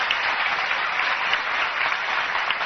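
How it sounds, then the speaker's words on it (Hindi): Loud, dense applause from a large audience for the Prime Minister, steady and continuous with no break, the clapping filling the whole stretch without any voices over it. "है तो जोरदार तालियां प्रधानमंत्री जी के लिए।"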